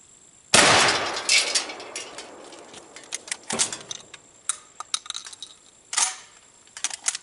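A Charles Daly firearm fires a single loud, sharp report at close range, followed by metallic clicks and handling rattles as the action is worked.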